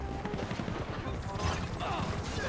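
Gunfire in the video game GTA V, including sniper rifles, sounds as a dense, continuous stream of rapid shots and mechanical clatter mixed into busy game noise.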